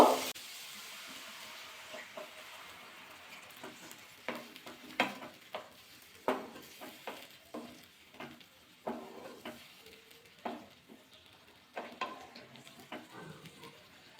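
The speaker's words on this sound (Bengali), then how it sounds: "এবার সামান্য জল দিয়ে দেব" Water poured into a pan of grape pickle brings a series of sharp sizzling and stirring bursts at an irregular rhythm, close and moderately loud.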